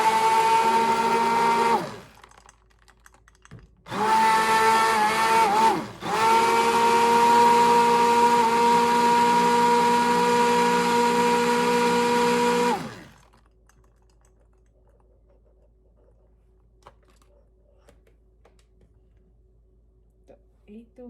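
An electric blender whirs loudly while blending a Sprite soda drink, running in two bursts separated by short pauses and a brief restart, then stopping and leaving near silence.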